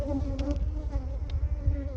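A large honey bee colony hums steadily during an open hive inspection, a close, even drone with a few brief higher buzzes of single bees passing near.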